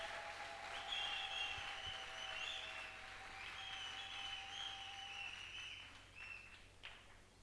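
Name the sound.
congregation applauding loudly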